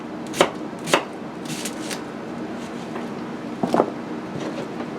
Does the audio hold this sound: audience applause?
no